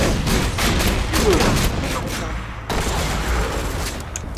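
A tri-barrel gyrojet gun fires in Borderlands 2, a dense and loud run of rapid blasts that rattles on for a few seconds with a short break partway through, while a person's voice sounds faintly under the gunfire.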